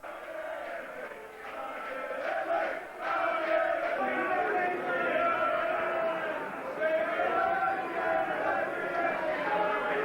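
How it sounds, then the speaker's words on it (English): A very large, noisy crowd roars and cheers steadily at Post Office Road, Featherstone, before a 1998 BARLA National Cup Final amateur rugby league game, the crowd noise swelling louder after a few seconds with no talk over it. "A very, very large and noisy crowd gathering here at Post Office Road, Featherstone, for this game"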